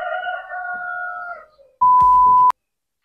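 A chicken crows in a long, wavering call from 0 to about 1.5 seconds, clear and fairly close, then a loud steady electronic beep cuts in and stops abruptly.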